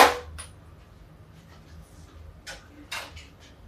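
A pressure cooker lid on a kitchen stove, giving a sharp metallic clang at the start, then a few lighter clicks and knocks as it is fitted and locked, close by and otherwise quiet.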